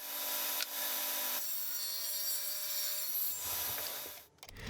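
A tool rasps steadily through wood while channels are cut into a wooden jig for holding planer knives at 38 degrees to an abrasive surface. The cutting is loud and continuous and ends abruptly just before the finish.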